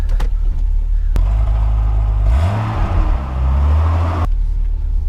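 BMW E30 pulling away on a mild fall day with the windows down, its engine revving up and shifting through a rising, falling pitch sweep, then settling into a steady cruising drone, loud and close throughout.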